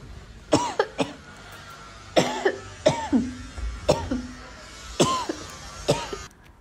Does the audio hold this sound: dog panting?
no